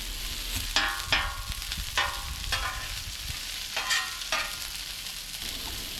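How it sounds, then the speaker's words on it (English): Broccoli and onions sizzling on a griddle in bacon grease and canola oil, a constant close hiss broken by several sharp scraping bursts of stirring spaced through the sequence. "Getting started here with my broccoli and my onions, getting those down on the griddle"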